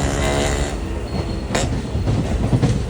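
A train at Ernakulam Junction railway station rumbles steadily with heavy low-end roar and rolling wheel noise, close and loud, with a brief hiss of brakes or air midway.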